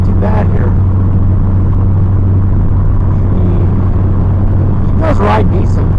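A 1973 Ford Pinto drives along with a steady low engine rumble and road noise throughout, close and loud, with brief voices cutting in near the start and again near the end.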